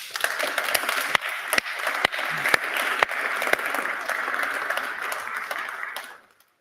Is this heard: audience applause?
yes